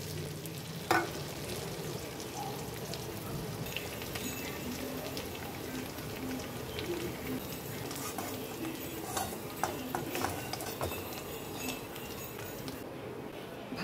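Food sizzles in a pan with hot fat as it fries: a soft, steady crackle runs throughout with occasional sharper pops and stirring scrapes, fairly quiet and with no talking.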